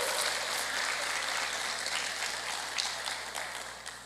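A church congregation at a Portuguese-language worship service applauds, steady sustained clapping from many hands filling the room, loud and even throughout with slight fading toward the end.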